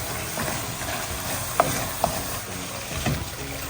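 Mutton curry with pepper powder and homemade garam masala being stirred in a pan, a steady sizzling bed with occasional scraping clinks of the spoon, close and continuous, without any talking.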